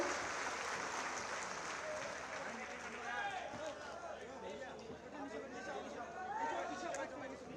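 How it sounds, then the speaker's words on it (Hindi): Audience applause at a ceremony for sanitation and health workers at the Maha Kumbh Mela grounds in Prayagraj, where a gift and insurance certificate are presented; steady clapping from a large crowd with chatter mixed in, continuous throughout. "रीता देवी मंच पर बहुत जोरदार तालियों से उनका अभिवादन।"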